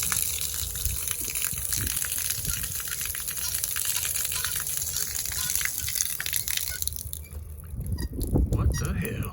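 Water gushing from an outdoor faucet with the handle and stem removed, a loud continuous rushing spray that surges near the end as a man reacts over it.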